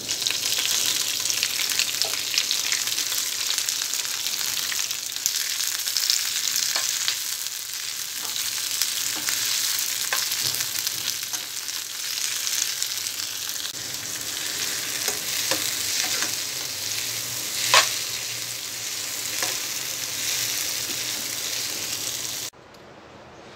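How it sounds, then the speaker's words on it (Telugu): Sorrel leaves (chukkakura) frying in a pan after green chillies: a dense, continuous close sizzle runs throughout with occasional stirring clicks, no voices, and cuts off abruptly at the end. "చుక్క కూర ఫ్రై చేసుకోవాలి."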